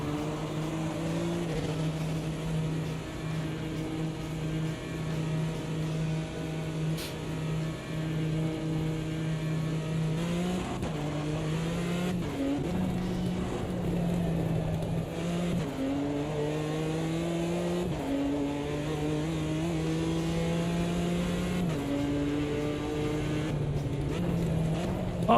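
Race car engine in the Automobilista 2 racing game, a loud continuous drone that climbs and drops with gear shifts and revs over a long run on track, without talk.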